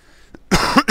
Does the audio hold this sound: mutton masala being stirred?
no